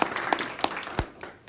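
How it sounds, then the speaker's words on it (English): Audience applause after a welcome at a Rochester Chamber and SUNY Empire partnership event, a brief burst of scattered hand claps with a few sharp louder claps standing out over steady clapping. "Let's give her a big round of applause."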